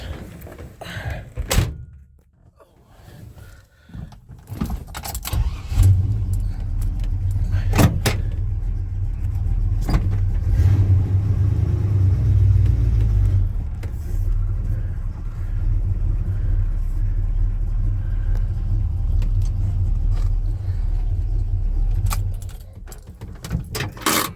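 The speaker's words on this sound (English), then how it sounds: "Let me move this truck up." Keys jangle and a door thunks shut before a Chevy C10 pickup truck's engine starts and settles into a steady, close, low rumble as the truck moves off, with no talking.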